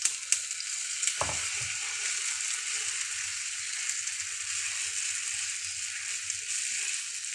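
Small pieces of food frying in hot oil, a steady bright crackling sizzle throughout with a brief splash-like burst near the start, close and continuous with no talk.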